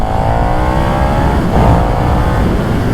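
A KTM Super Duke 1290 Evo motorcycle accelerates to overtake, a steady, loud engine roar under heavy wind noise with a rising pitch sweep partway through, no talking.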